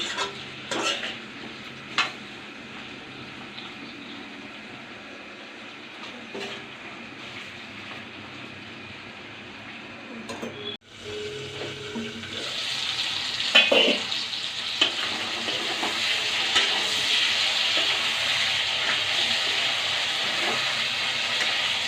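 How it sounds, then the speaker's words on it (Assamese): Potatoes are stirred into local chicken frying in a pan, giving a steady sizzle that swells louder midway with scraping stir strokes, no talk over it. "আলুখিনি দি লৰাই ঢাকি দিম অলপ"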